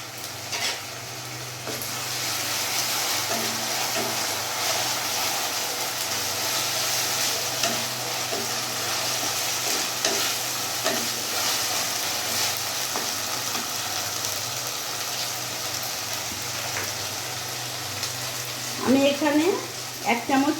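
Ginger, garlic and green chili paste sizzles steadily in a hot pan while cooking chicken do pyaza, a continuous close frying hiss with occasional stirring scrapes and a few clatters near the end.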